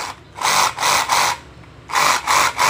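A repaired reciprocating saber saw runs in five short, loud bursts of buzzing motor and blade noise, separated by brief pauses, with no talking.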